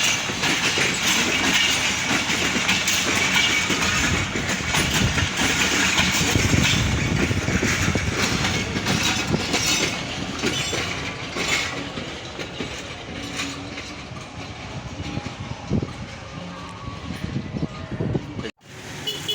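The long Allama Iqbal Express passenger train rolls past close by in Lahore, a loud, continuous rumble with rhythmic clickety-clack of wheels over rail joints, easing slightly toward the end.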